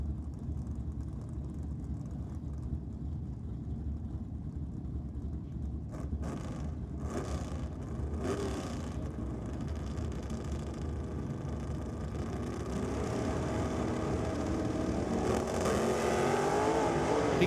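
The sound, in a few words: drag racing cars launching at Sydney Dragway, including a Cortina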